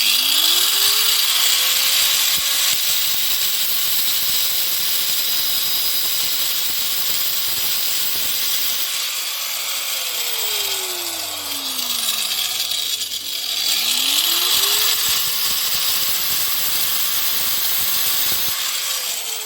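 A power cutting tool whines as it slices through a seized track rod end on a Mini R53, its pitch rising and falling in long sweeps over steady loud noise, close up with no talking.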